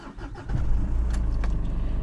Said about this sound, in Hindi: थोड़ा सा आपको इंजन नॉइज आ रहा है इनसाइड द केबिन